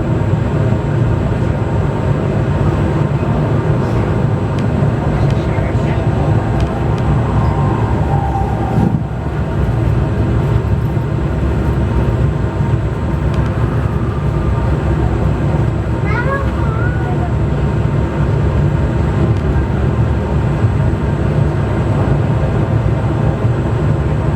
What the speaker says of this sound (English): Please remain seated until the monorail comes to a complete stop.